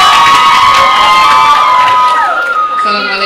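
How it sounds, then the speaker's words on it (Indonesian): Students at a school assembly in a hall applaud and cheer loudly for a classmate, with shouts and whoops over steady clapping. A tone sounds briefly near the end. "kasih tepuk tangan dong untuk teman kalian yang nanya nih"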